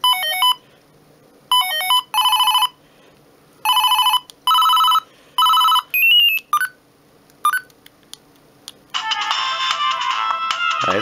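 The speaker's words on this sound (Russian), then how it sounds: "А это уже полифония." Ringtone melodies play back from a Siemens A52 mobile phone: short bursts of bright beeping tones separated by pauses, followed by a fuller, richer polyphonic melody near the end, loud and clear with no talking.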